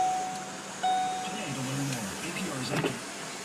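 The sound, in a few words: 2013 Ford Focus electric sunroof closing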